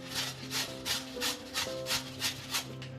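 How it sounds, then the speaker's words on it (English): A fresh carrot being grated by hand on a kitchen grater for gaajar ka halwa: eight or so steady, rhythmic rasping strokes, close and clear, over a faint low tonal hum. "Let's take a grater like this one and hold the carrot and grate it."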